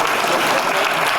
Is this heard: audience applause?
yes